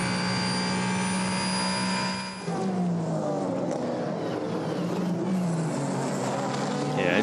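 Ferrari and Toyota endurance race cars scream past in a WEC race, a high tonal engine whine that sweeps down as one car passes, then a rougher mixed roar of several engines at moderate distance.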